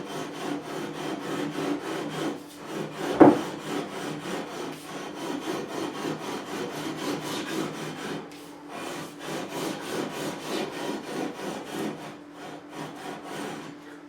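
Fret leveling on a Fender Custom Shop Stratocaster neck: a steady, close rasping scrape of an abrasive stroked back and forth over the frets, running continuously with one sharp knock partway through.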